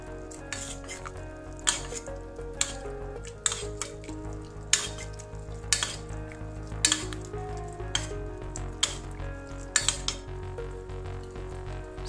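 Fish sizzles steadily in cooking oil while a spoon stirs it, and a sharp metallic scrape or clink against the pan comes at regular intervals of about a second over the continuous frying hiss, close up and with no talking.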